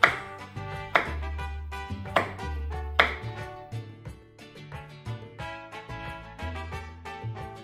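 A knife chops a hot chili pepper finely for guacamole, a few sharp, evenly spaced strikes on the board over background music.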